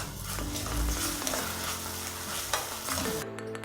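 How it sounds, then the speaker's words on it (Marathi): Ginger-garlic paste frying in a pan for a cowpea curry, giving a steady close sizzle with stirring scrapes and low clatter throughout, with no talk. "आता आपण यामध्ये अद्रक आणि लसणाची पेस्ट घालून घेऊया आणि हेही छान भाजून घेऊया।"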